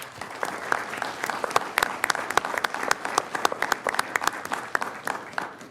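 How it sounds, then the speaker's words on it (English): An audience at a Douglas County commissioners business meeting bursts into loud, dense applause, many hands clapping steadily for several seconds. "Let's give Luke a big round of applause"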